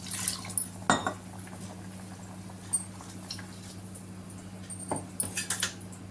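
Water is poured into a pot of brown chana curry in a home kitchen, mixed with clinks of a metal blender jar being rinsed and emptied, faint splashes and scattered utensil knocks over a low steady background hum.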